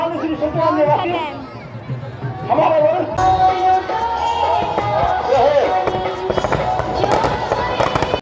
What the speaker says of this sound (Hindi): उस रावण को फोड़ने वाला बस होने वाला है।